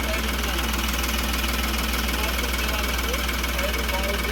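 A 2021 Ashok Leyland Dost Plus diesel light commercial vehicle idles with a steady, even engine rumble and a faint knocking pulse, close by and continuous throughout.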